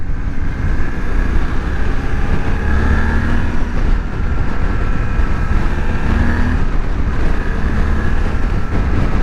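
A Suzuki V-Strom 800DE motorcycle engine drones steadily on a test ride, a loud continuous hum with a faint shifting whine and wind rush throughout, no talking.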